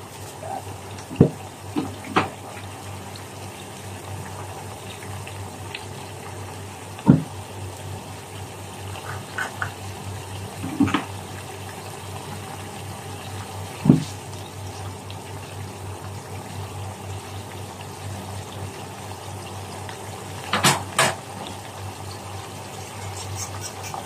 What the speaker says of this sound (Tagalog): So yan guys, kumukulo na siya.